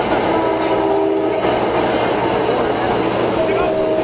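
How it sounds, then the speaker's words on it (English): A train rolls past close by in Asbury Park, New Jersey, a steady loud rumble with clacking wheels and a sustained horn tone near the end, filling the whole stretch. "as the train passes us here"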